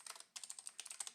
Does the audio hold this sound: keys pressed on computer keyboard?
yes